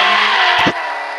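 A BMW in the Extreme Car Driving Simulator game drifts with a broad, hissing tire squeal over a steady engine whine, then a short burst of skidding noise cuts in and the squeal eases off slightly.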